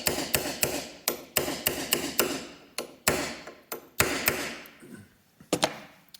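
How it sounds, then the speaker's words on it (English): A hammer strikes a punch to knock down a part on a 10EE lathe under refurbishment, a run of sharp metallic knocks in an uneven rhythm, loud and close, with quieter taps near the end. "So I'll just get a hammer and a punch, and we'll just knock that guy down."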